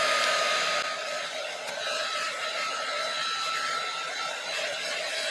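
A heat gun blows steadily close by during a junk-journal craft session, its continuous airy roar holding nearly constant throughout with no talk.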